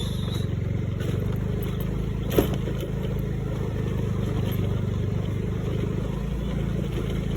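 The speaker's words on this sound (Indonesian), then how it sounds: "Kita kasih lewat dulu, ada mobil masuk ke sini." A steady engine rumble of a car rolling slowly nearby on a badly damaged road, continuous and fairly loud, with a brief knock partway through.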